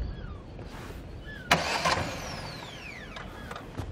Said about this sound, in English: The car won't start.